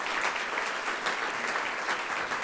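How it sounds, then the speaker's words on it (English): A room full of people at an economic forecast event applauding steadily, a continuous wash of clapping at moderate distance with no talking. "Give them another round of applause for all of their support."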